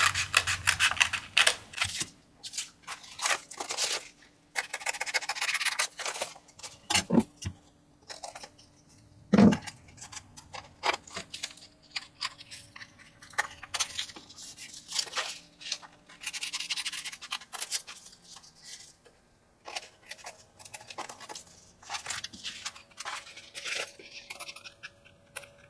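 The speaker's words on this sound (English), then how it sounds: "Using my scissors, I'm going to trim the paper out." Scissors trimming white paper while making a handmade journal: irregular close snips and papery scraping bursts come and go, broken by brief pauses and an occasional louder knock.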